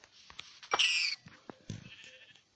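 Sheep bleat in the Minecraft video game, one loud, wavering bleat in the middle of scattered clicks and short game noises; no one speaks.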